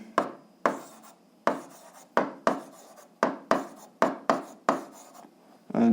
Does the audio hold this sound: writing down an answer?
yes